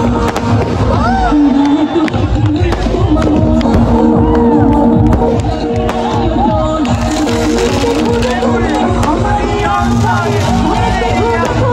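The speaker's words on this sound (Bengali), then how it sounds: "পোলাপাইন অতি আবেগে আতশবাজি ফুটানো শুরু করে দিয়েছে" Fireworks crackle and pop repeatedly at an outdoor music concert, loud and dense over a cheering, chattering crowd and amplified music throughout.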